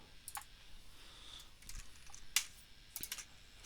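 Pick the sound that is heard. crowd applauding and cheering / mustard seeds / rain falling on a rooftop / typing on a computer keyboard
typing on a computer keyboard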